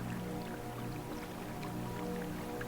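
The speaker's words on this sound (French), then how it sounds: "Aujourd'hui, le chant du torrent." Mountain stream flowing, a continuous, fairly quiet wash of water with soft gurgles and drips, steady throughout without any talk.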